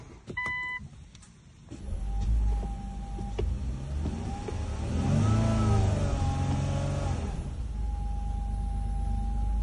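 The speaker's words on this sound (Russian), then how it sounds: "Тест двигателя перед разбором." Nissan Skyline V37 sedan with a VQ35HR V6 and 121,000 km on the clock, starting up and running before teardown, with an engine hum and a rising, falling rev in the middle; a few electronic beeps come first.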